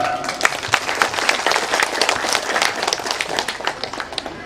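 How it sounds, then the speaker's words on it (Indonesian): A crowd applauds steadily at an Indonesian political party anniversary gathering, a dense wash of many hands clapping at once that carries on without a break. "Waduh, luar biasa, tepuk tangan."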